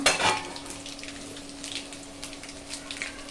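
Mustard seeds, fenugreek, cumin and dried chillies crackle and sizzle in hot oil as a sambar tempering, with close, bright popping and spitting over a continuous fry, loudest at the start.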